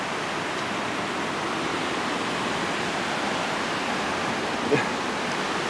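Floodwater from a swollen river rushes through Rochefort, Belgium, after heavy flooding, a steady broadband roar that fills the whole stretch with no pause, with one brief brighter splash or knock near the end.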